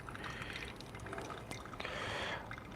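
Water poured slowly over a bed of coffee grounds, a soft steady trickle and drip that swells briefly near the end, quiet and close with no talking.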